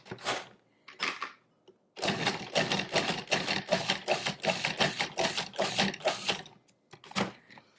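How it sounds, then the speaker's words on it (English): Cuisinart DFP-14BCNY 14-cup food processor pulsing seeded tomatoes, a run of about a dozen quick motor bursts in steady rhythm after two short opening pulses, loud and close, with one last pulse at the end. "we're going to pulse that until it's finely chopped"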